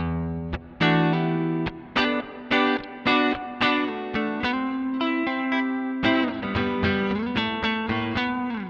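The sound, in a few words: guitar clean tone through tube overdrive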